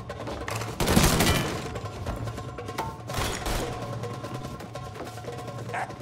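Gunfire in Mafia III: Definitive Edition, a few sharp shots and bursts rising out of a busy, rumbling game soundscape, the loudest volley early and quieter cracks later.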